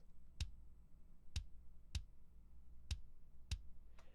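Five punchy, isolated rock kick drum sample hits with deep low thump and a sharp click at the start, spaced unevenly about a second apart, no other instruments.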